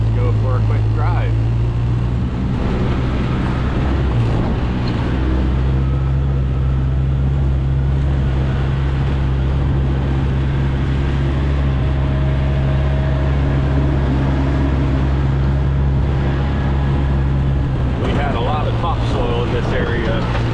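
A vehicle driving along a half-mile dirt driveway on rural property, giving a steady loud low engine hum with rumbling and rattling throughout, close, under a person's speech.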